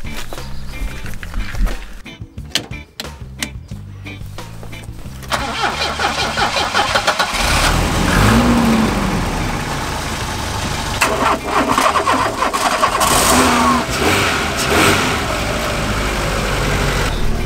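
A Renault Twingo with a completely flat battery cranks with repeated starter bursts after a jump-start, then catches and settles into a loud, close, rough idle with some revving, a brief voice heard at one point.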